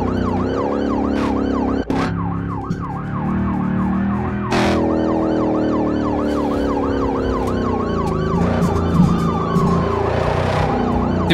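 Police car siren in the BeamNG Drive driving game, a loud wailing siren sweeping up and down continuously with engine and traffic noise beneath.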